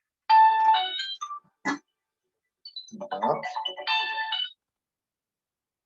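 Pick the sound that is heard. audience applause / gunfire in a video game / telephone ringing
telephone ringing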